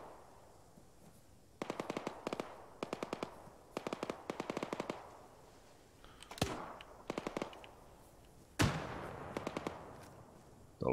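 Automatic gunfire from a military shooter game set in Afghanistan, with repeated short bursts in a rhythmic pattern and a couple of louder single blasts, fairly close and with no talking.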